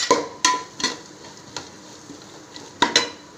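Vegetables sauté in a pan with chili powder and cumin powder while being stirred for egg fried rice, a soft sizzle under sharp intermittent spatula scrapes and taps against the pan, close and fairly quiet.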